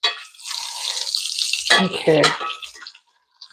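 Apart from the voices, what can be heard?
water running from kitchen tap into pot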